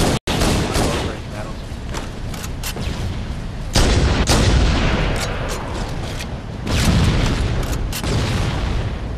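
Assault rifle fire in Halo 1 crackles in rapid, repeated loud bursts with sharp individual shots and heavy booms, continuing almost without pause while voices are heard faintly underneath.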